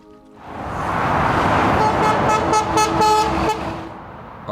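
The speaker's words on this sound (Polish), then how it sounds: "tutaj był miły kierowca, który mi po prostu potrąbił" A truck horn sounds on the A1 in England, a loud sustained honk from a passing lorry over heavy road and engine noise, lasting a few seconds before fading.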